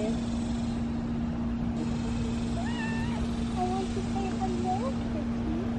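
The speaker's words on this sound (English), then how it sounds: "He's a little kitten." A kitten gives several short, high meows in a row over a steady background hum, with a voice talking nearby.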